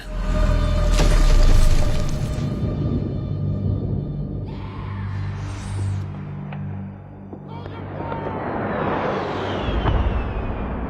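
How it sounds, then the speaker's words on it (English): A loud explosion in a Transformers: Revenge of the Fallen battle scene, with a heavy low boom at the start, rushing debris and whooshing bursts, and sustained rumbling under a dense film soundtrack. "Sam tries to get the Matrix dust to Optimus's body, but he's caught in some random explosion."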